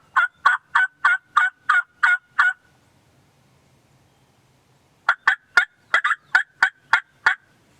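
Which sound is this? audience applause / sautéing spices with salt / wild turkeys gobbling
wild turkeys gobbling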